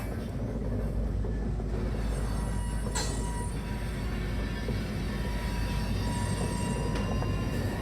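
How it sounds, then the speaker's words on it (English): A freight train of covered hopper cars rolls by at night near an ethanol plant, a steady loud low rumble with faint metallic squeals and clanks, close and continuous without talk. "After all of the covered hoppers have been unloaded, Red takes the full string of cars out into the siding"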